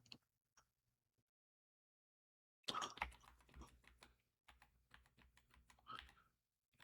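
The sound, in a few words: typing a password on a computer keyboard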